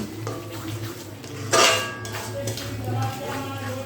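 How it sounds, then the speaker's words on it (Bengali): Sour yogurt is worked into spice paste in a pan over a low flame for mutton curry, with metal spoon scrapes and clinks against the pan, one louder clatter midway, over a soft hum. "এখন গ্যাসের ফ্লেমটা একদম লোতে করে দিয়ে এই দইটা মশলার সঙ্গে খুব ভালো করে মিশিয়ে নিতে হবে"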